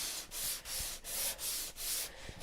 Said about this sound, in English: So I'm going to give this a very light sanding.